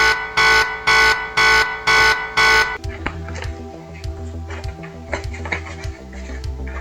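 A loud, harsh, buzzing alarm set off by pressing a button blares in five evenly spaced bursts, then stops, leaving faint room noise with scattered clicks and low rumble.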